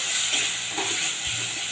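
Tomato and spice masala frying in oil in a pan, a steady soft sizzle and hiss running throughout with faint stirring scrapes, no talking.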